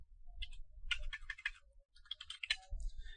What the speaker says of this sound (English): So I'll just type ifconfig.